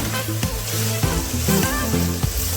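Minced meat being fried in a pan for aloo keema, a close, dense sizzle broken by repeated scraping stirs and spatula knocks in an uneven rhythm.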